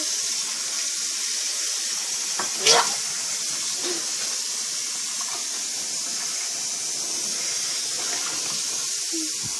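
Water runs steadily from a tap with a close, even hiss and splash, broken by one brief louder spatter of water partway through.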